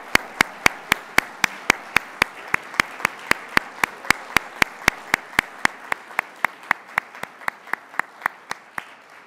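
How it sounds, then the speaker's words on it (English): Awards ceremony audience applauding past alumni award recipients, heard as a string of sharp, evenly spaced claps over a soft crowd bed, thinning toward the end. "please stand so we can give you the round of applause you deserve."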